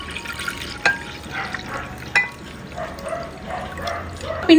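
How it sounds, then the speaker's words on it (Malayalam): Kinnathappam batter is strained through a tea strainer and poured, giving a steady soft liquid hiss with a couple of sharp clinks against the utensil. "വീണ്ടും അരിച്ചൊഴിക്കാം."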